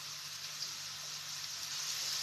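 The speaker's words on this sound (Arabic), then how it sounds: "راح نقلي البصل اولا، نقليه مليح مليح حتى يدبل" One small onion frying in oil in a pan, giving a steady, close, unbroken hiss and crackle of sizzling with no talk.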